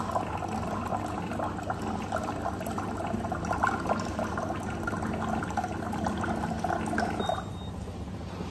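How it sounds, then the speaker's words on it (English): Water streams steadily into a glass from a water-treatment dispenser, a continuous close pouring and bubbling that runs for several seconds before easing off, with no talking. "Okay, so it's filling up the glass."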